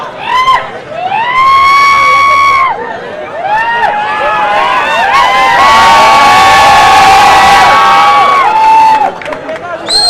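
A bodybuilding contest audience claps, whistles and cheers loudly and continuously during posing rounds, with high shrill whistles rising over the dense crowd noise throughout.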